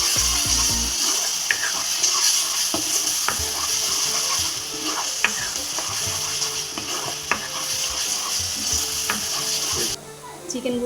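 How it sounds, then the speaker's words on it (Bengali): Chicken bharta spices, Kashmiri chilli powder, garam masala and salt, sautéing in hot oil while a spoon scrapes and stirs the pan in steady rhythm, close and fairly loud with a continuous sizzle, no talking. "দিয়ে আমি ভালো করে কষিয়ে নেব।"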